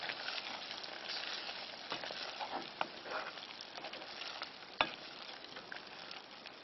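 Butter melting and sizzling in a pan as a curry is cooked, a steady soft crackling fry with occasional sharper pops, quiet and close.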